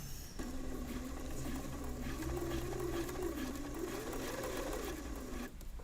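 Sewing machine stitching elastic onto fabric, a steady fast mechanical whir with light rhythmic clatter running continuously for several seconds before stopping abruptly.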